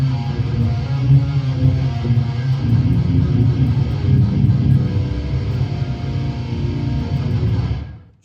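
Distorted electric guitar played through an EVH 5153 amp with EL34 tubes into a Mesa cabinet impulse response; a thick, chunky riff rings steadily and loudly for several seconds, then cuts off.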